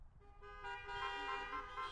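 Several car horns honk together from an outdoor concert audience at a wind ensemble performance under a tent, sustained blaring tones overlapping and swelling for about two seconds with no talking.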